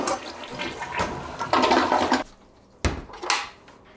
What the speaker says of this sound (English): not before flushing all of the dirty water